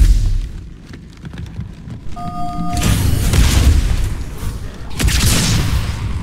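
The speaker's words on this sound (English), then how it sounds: "the fuel rod cannon made short work of this" Heavy blasts from a fuel rod cannon in the Halo 2 Anniversary campaign, with a loud booming burst followed by another broad explosive blast a few seconds later, set over steady rumbling game noise.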